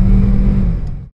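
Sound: Volkswagen Polo GT TSI engine revving

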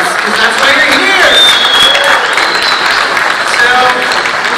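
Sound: audience applause for The Walking Dead shows

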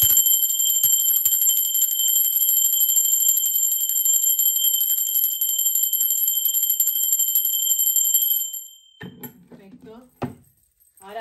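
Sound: bell ringing

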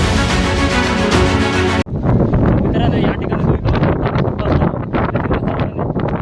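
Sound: strong wind and sea waves at a fort

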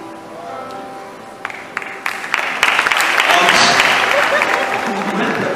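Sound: applause in church

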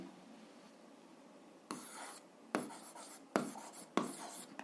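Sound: writing an algebra solution by hand

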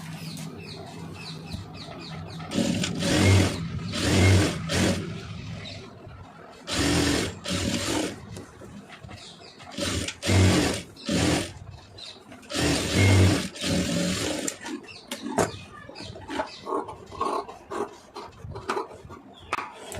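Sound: sewing machine stitching a sleeve seam

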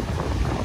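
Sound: wind

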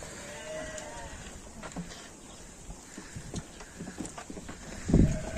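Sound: lambs running around and playing

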